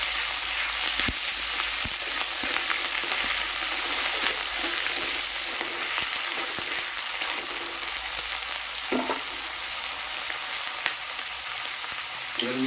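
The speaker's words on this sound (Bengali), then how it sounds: "পেঁয়াজগুলো হালকা করে ভেজে নেওয়ার পরেই আমি এর সঙ্গে দিচ্ছি বাটা পেঁয়াজ।" Onion paste and already-fried onions crackle in hot oil for a spicy koi fish curry, a dense, continuous sizzle held at an even level from start to finish. There are only occasional faint clicks and no speech.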